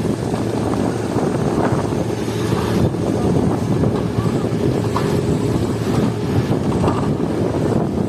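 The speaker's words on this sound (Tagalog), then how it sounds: "napakalakas pa rin ng hangin dito" Strong wind roars continuously during a heavy rainstorm at a construction site, buffeting the microphone with a loud, steady rumble throughout.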